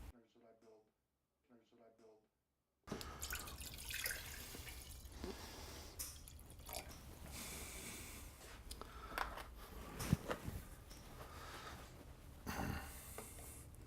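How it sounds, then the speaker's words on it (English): Tap water runs and splashes into an oil sample in a lab container, a steady rushing pour with scattered drips and sloshes that follows a few seconds of near silence. "Now we'll add water."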